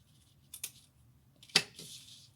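Two quick, faint snips from scissors cutting off excess ribbon during a hair-tie craft, spaced about a second apart in a quiet room.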